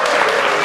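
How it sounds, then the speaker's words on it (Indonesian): Indonesian university students give a brief burst of dense, loud audience applause. "Tepuk tangan dong."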